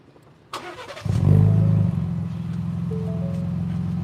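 A starter click and whir, then a Ford Bronco Raptor engine catches with a loud rumbling roar through the exhaust before settling into a steady, throaty idle.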